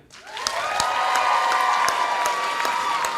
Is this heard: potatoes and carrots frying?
no